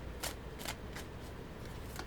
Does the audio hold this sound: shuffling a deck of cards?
yes